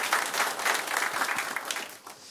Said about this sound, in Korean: 함께 박수로 하나님께 영광 돌리도록 하겠습니다.